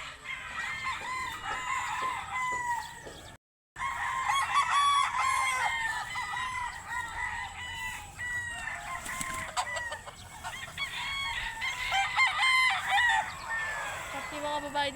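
Gamecock roosters crow repeatedly amid steady clucking from a yard of stags and hens, several birds calling at once at close range, with one brief dropout near the start.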